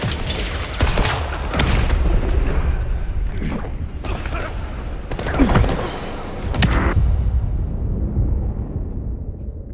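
Frag grenade blast and rapid gunfire in a shooter video game, with booming explosions and dense shots rolling continuously close by before fading out at the end.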